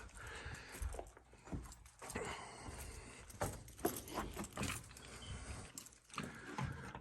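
Keys jangle and clink in a busy, metallic rattle close by, mixed with handling noises and a background bustle inside a building that holds arcade games.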